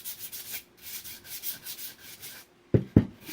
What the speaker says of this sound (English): And then I'll just show you on a lid, just a little piece of sandpaper.